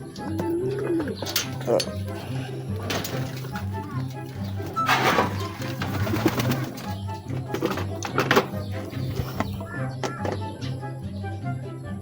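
Racing pigeons coo steadily in low, repeated rhythmic phrases throughout, with occasional wing flaps and thumps nearby and a voice talking under the birds.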